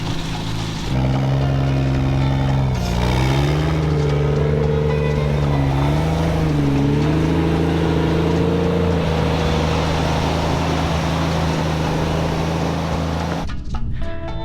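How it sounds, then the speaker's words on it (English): A Jeep engine labors steadily uphill in reverse, a loud, sustained drone with gently shifting pitch as it climbs, close to the listener before cutting off at the end. "Should we see if the Jeep will go up it?"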